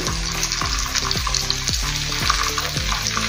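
Moong dal snacks frying in hot oil, a steady close sizzle with bubbling crackle and repeated low thumps as pieces are dropped in and lifted out, no talking.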